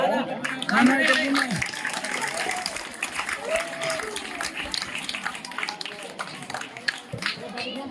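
Children clapping at a school gathering, sustained applause of many small hands that stays fairly even for several seconds, with a voice speaking over it at the start.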